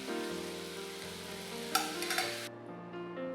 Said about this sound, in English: Give all this a good stir